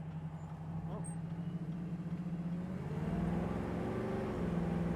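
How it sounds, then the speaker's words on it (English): A 1968 Chevrolet Camaro with a 350 engine accelerates while driving, its steady low engine drone rising in pitch as it gains speed, heard from inside the car. "Car has pretty good acceleration too"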